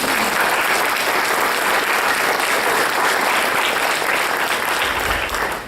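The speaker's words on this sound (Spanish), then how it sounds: "Vamos a darle un fuerte aplauso al Señor por eso" A church congregation at a Spanish-language service claps loudly and continuously, a dense wash of many hands close by with no voices over it.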